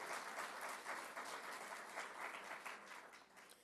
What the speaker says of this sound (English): can you give her a round of applause for being a new grandmother?